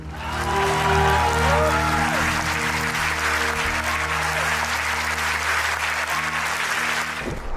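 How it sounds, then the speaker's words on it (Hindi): A large audience gives sustained, dense applause in honour of Dr. Hedgewar at a patriotic Hindi speech event. Loud and even, it carries over a steady hum for several seconds before cutting off abruptly. "डॉक्टर हेडगेवार के सम्मान में तालियां आखिरी पंक्ति तक बजनी चाहिए"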